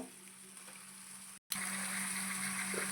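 Chicken liver and gizzard pieces sizzling in hot oil with curry leaves in a pan, a faint steady hiss that cuts out briefly, then returns a little stronger with a low hum underneath.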